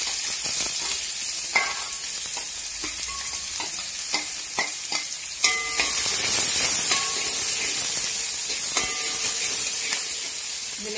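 Chopped small onions sizzle in hot oil after mustard seeds have popped: a steady frying hiss runs throughout, broken by crisp crackles and pops and the clink of stirring, with no talking.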